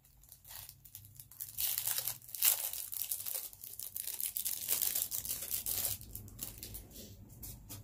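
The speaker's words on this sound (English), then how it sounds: "I just cut it with scissors." Crisp, crinkly cutting and snipping through a plastic squeegee with scissors, continuous and close, with rustling handling noises throughout and no talking.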